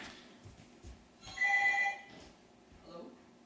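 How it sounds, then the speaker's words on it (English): Telephone ringing in a room during a Phoenix Wright: Ace Attorney WiiWare game session, a single electronic ring burst of about half a second, loud against faint background talk and game sound. "Alright, another phone call"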